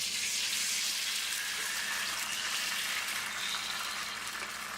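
Egg substitute frying in a pan coated with cooking spray, a soft steady sizzle with a faint hiss and no talking.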